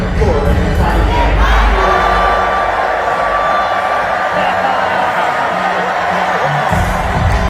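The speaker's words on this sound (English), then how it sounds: "I just heard crowd sounds" A large stadium crowd roars and cheers continuously throughout, loud and dense, at an NFL Super Bowl broadcast during a halftime performance, with no clear talk over it.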